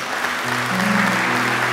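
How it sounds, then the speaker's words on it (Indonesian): A church congregation applauds during a Christmas sermon in West Papua, a steady wash of clapping that fills the short moment without talk. "Tepuk tangan untuk Tuhan Yesus"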